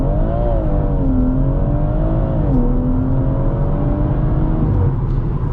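A 440 bhp BMW M140i Shadow Edition accelerating hard on a launch run, heard from inside: a loud, continuous engine roar with rising tones that drop at each gear change, steady and close throughout.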